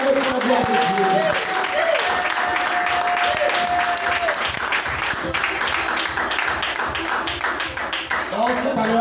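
A church congregation applauds loudly and continuously for several seconds in a dense wash of clapping, with a voice speaking over the crowd throughout.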